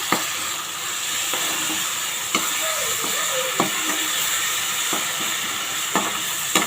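Ground green chilli paste sautés in a hot pan for channa biryani, a continuous sizzle broken by several sharp scrapes of a spoon being stirred, close and clear with no voices.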